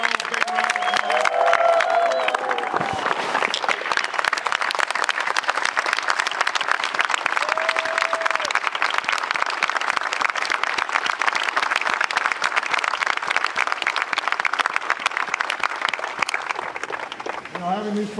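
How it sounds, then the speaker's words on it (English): A big crowd at a New York Giants championship celebration applauds wounded warriors, a long, loud, even roar of clapping with cheering mixed in, a couple of voices briefly heard at the start. "Let's give them all a big round of applause."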